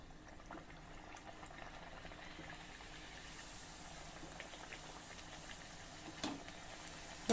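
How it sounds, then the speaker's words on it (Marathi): Sweet potato puris deep-frying in hot oil give a soft, steady sizzle and bubbling that stays faint and even throughout, with one small clink near the end. "या पद्धतीने तेलात तळून वर आली की खाली ढकला, म्हणजे खूप मस्त पुऱ्या फुगतात।"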